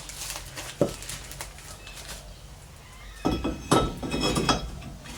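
Metal clinks and knocks as a brake rotor is slid onto a Toyota Tarago hub, a sharp tap near the start, then a cluster of closer metallic clanks and rattles toward the end, with quieter workshop handling between.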